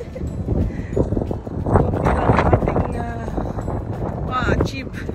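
Wind buffets the microphone in a steady low rumble on an outdoor afternoon walk, with people talking throughout and a few clattering footstep-like sounds mixed in.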